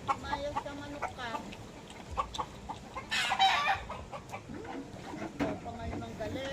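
A rooster crows amid repeated clucking from nearby chickens, with people talking over the farmyard noise.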